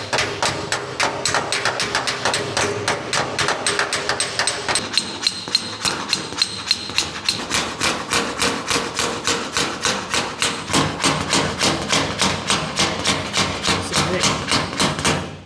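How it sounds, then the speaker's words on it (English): A steel body panel on a Plum Crazy Dodge Charger under restoration is hammered against a dolly in rapid, loud, evenly spaced metallic blows that run continuously for about fifteen seconds, close by. "So I'm just hammer and dolling it back to a nice straight finish again."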